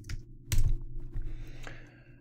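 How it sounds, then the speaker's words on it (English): Rapid keystrokes on a computer keyboard as a short git commit message is typed, a burst of clicks with one heavier press partway through, close and fairly quiet. "I type in a message saying just first commit"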